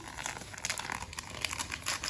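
A paper sachet of vanillin is torn open in a home kitchen while making sweet pancakes, a short close crinkling and rustling of packet paper with a few sharper tears.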